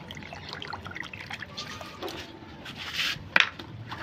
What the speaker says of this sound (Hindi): पानी भर लेते हैं इसके अंदर